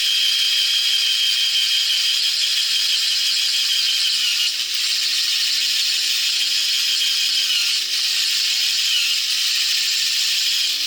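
A Black & Decker 12-volt cordless drill grinds steadily into metal, a loud continuous high-pitched whine that holds without pause for the full stretch.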